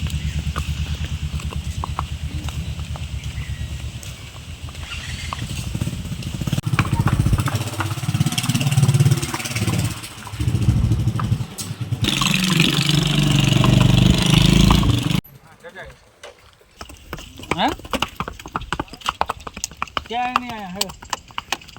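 A mare being ridden slowly gives a steady clip-clop of hooves, close and rhythmic, while people talk. Later the scene shifts to quieter sounds with an engine-like rumble.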